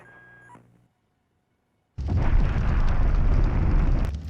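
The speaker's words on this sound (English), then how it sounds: "The third torpedo hits and destroys the Severodvinsk, one of two submarines the battle group must destroy" A torpedo strikes and destroys the Severodvinsk submarine in Naval War: Arctic Circle: after a faint tone and near silence, a sudden loud explosion erupts into a sustained, rumbling roar that holds for a couple of seconds.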